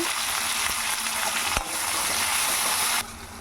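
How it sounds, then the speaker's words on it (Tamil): Tomatoes and onions sauté with salt in a pan, hissing in a continuous sizzle broken by one sharp clank of a utensil before the sound thins out near the end. "உப்பு சேர்த்துருக்கேன் சேர்த்துட்டு வதக்கி விடுங்க"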